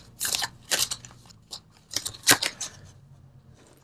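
Tarot cards are pulled and shuffled from a deck in a handful of crisp, papery riffles and slides, close and fairly loud, in short bursts with brief pauses and no talking.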